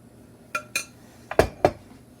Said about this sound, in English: Scrape our container clean,